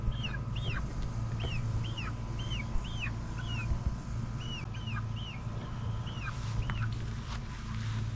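A backyard chicken flock clucks in a continuous series of short, rising calls, fairly close, over a constant low hum of background noise.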